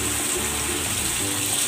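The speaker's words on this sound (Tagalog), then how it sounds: "At maglalagay ako ng tubig" Water pours into a pot of pork, making a continuous splashing rush at moderate level that runs without a break for under two seconds.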